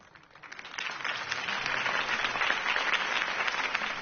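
A crowd applauds a Harvey Dent campaign speech in a video game cutscene, a dense, somewhat distant wash of clapping that swells from quiet to a steady level and holds.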